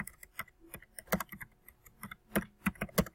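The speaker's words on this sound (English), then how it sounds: "let's go ahead and type in here" Computer keyboard keys typed in short irregular bursts of clicks, close and fairly quiet, with no talking.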